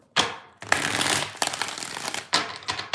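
Tarot cards shuffled by hand in three quick bursts, each a crisp papery riffle of flicking card edges, close and fairly loud with short pauses between.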